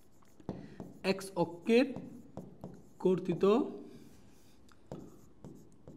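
Pen strokes scratch out math during a differentiation lesson for higher-level maths. Short, close scratching bursts are heard under a voice speaking Bengali, and a few quieter strokes continue after he stops.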